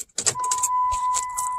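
A car being locked, with a short burst of clicks and a jangle of keys, then a steady electronic beep tone holding on for over a second at close range.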